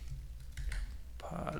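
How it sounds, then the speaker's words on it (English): Computer keyboard keys tap in short bursts, soft, close clicks with a brief pause, while people talk over and around the typing. "It's fun typing on the air, right?"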